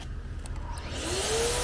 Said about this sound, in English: How much is the vacuum drawing by itself?